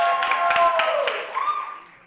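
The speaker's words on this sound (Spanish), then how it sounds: "Fuerte el aplauso para los muchachos de 220 Crew." Applause for the 220 Crew dancers at a dance battle, a burst of clapping hands mixed with voices and a sustained tone, fading out over about two seconds.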